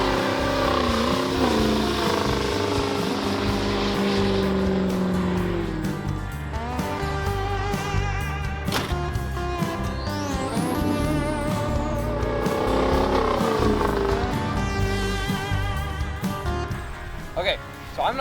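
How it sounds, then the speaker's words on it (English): A 1989 Chevy C1500 Silverado pickup revs loudly through a smoky tire burnout, engine roaring steadily up close for the whole stretch while people shout and talk over it. "Your tires are really smoky, Jackson."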